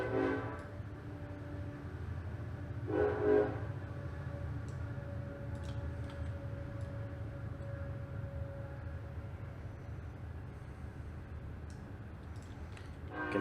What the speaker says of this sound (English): You can hear the train actually go by outside my house right now